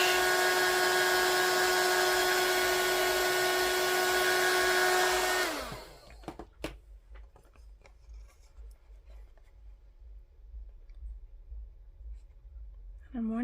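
A heat tool dries a stamped image on stamping foam, blowing a loud, steady whirring drone with a whine that winds down and stops after about five seconds, leaving quiet handling noises.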